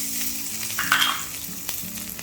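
Green chillies fry in hot oil in a pan for brinjal rice, giving a close, steady sizzle with a few light stirring scrapes and no voices.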